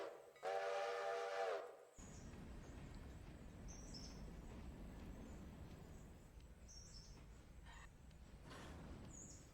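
A locomotive whistle in the Railroader train simulation blows loud and clear for over a second, then a train rolls on with a steady mechanical rumble and scattered clanks.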